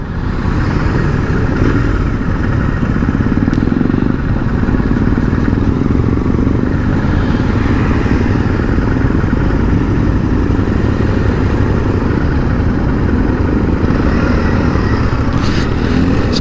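A Royal Enfield Interceptor 650 motorcycle rides over speed breakers on a road near Coorg, its steady loud engine and wind roar filling the whole stretch with only slight bumps in tone.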